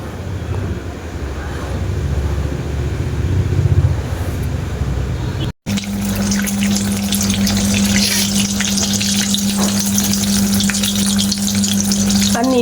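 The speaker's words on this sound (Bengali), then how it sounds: "আর আস্তে আস্তে দেখো নিমকিটা ভাজা হচ্ছে" Nimki, crisp fried flour snacks, frying in hot oil with a steady close sizzle and bubbling throughout; a brief break midway, then a louder, brighter crackle with a faint hum underneath.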